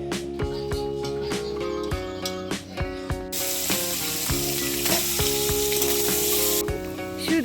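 Fish frying in a pan, with a steady broadband sizzle that swells loud and dense midway, alongside repeated clinks and tonal kitchen sounds, no talk.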